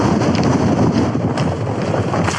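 Strong wind buffets the microphone in a steady, loud roar while hiking near a tent camp, a continuous broadband rush with gusty swells and no voices.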